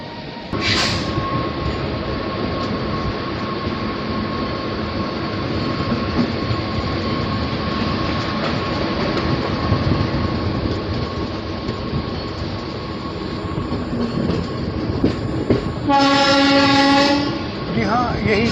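Gandhidham–Palanpur passenger train departing Vond station amid construction work, a steady loud rumble and rattle of rail cars heard from on board, with a short horn blast early and a long tonal horn near the end.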